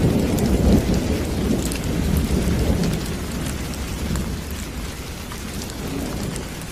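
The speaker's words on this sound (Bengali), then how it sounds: "ঝমঝম করে বৃষ্টি নামলো।" Heavy rain pours down steadily and close by, a dense continuous roar with low rumbling thunder under it that eases a little toward the end.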